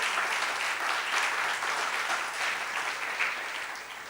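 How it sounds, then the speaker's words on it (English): A symposium audience at a media and communication event gives the previous speakers a round of applause. The dense clapping is steady and loud, filling the room throughout, with a slight fade at the end. "can I also have a great round of applause for all the speakers who spoke before me?"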